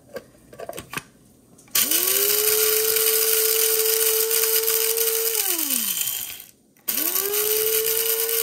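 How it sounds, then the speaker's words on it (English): Electric spice grinder pulverizing a batch of Sichuan peppercorns for bacon chili crisp, a loud steady high whine that runs for several seconds, winds down, then starts up again after a brief pause. "that much Sichuan peppers. Let's grind that up."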